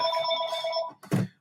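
A telephone rings with a bright, sustained electronic trill for most of a second, then cuts off and is followed by a short thump or handling noise.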